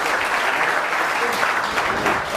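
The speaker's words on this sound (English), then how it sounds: "So let's give him a big round of applause." A large audience at an evening talk in Baltimore, Maryland, breaks into a dense, steady round of applause that holds at full strength throughout, with no voices standing out.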